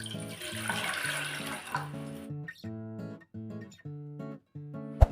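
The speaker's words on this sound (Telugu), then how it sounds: "అందులో 2 గ్లాసుల వరకు వాటర్ని పోసుకోవాలి." About two glasses of water pour into a cooking pan for a homemade fennel and cardamom drink, a steady splashing rush for the first two seconds before stopping, with melodic background music continuing throughout.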